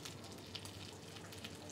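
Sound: duck breast frying skin-side down in a pan

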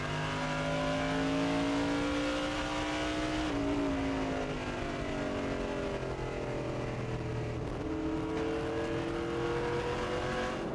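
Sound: onboard race car engine, Monte Carlo stock car racing

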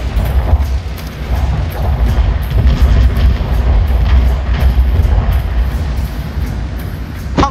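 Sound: artillery barrage in video game

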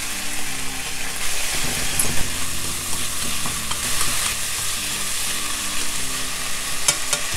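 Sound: onion stir-frying in pan with garlic and ginger

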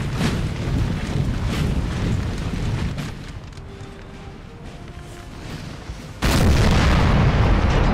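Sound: troops firing in video game Napoleon Total War

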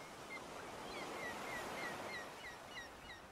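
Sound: gentle waves rushing on the shore

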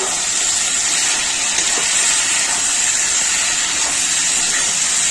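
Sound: coriander and cumin sizzling as they are stirred in the pan

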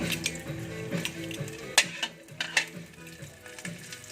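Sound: sautéing garlic for ginisang tahong (mussels)

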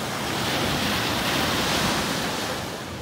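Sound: ocean waves crashing on beach

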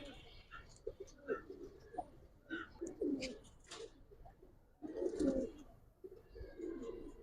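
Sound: Giribaz silver-type pigeon cooing

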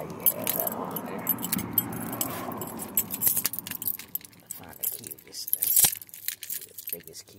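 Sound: keys jangling for a Chevy Colorado

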